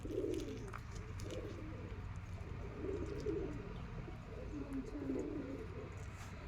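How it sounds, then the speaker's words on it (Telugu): Low, soft cooing from Indian rock pigeons in a deer park repeats in short rolling bursts over a constant background hum. "ఇది రాక్ పావురం అంట, ఇండియన్ రాక్ పావురం."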